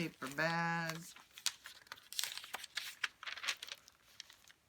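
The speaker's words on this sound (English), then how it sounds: "Paper bag," A paper bag from a junk journal is handled, giving close, irregular crinkling and rustling bursts, after a brief hummed or voiced tone at the start.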